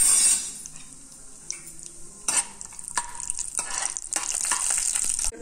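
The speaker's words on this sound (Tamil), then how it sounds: "இதில் நெய் சேர்த்துடலாம் இதில் இந்த முந்திரி பருப்பை வறுத்தெடுத்துடலாம்" Cashews fry in ghee in a cooker pan, a steady bright sizzle running throughout with a few sharp stirring scrapes and clinks of a spoon against the pan, close and moderately loud with no talking.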